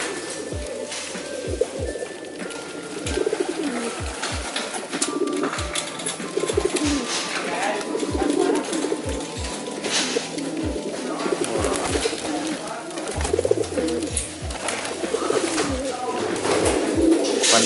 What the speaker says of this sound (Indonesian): Kondisi kandang Nadira di hari Senin sore hari.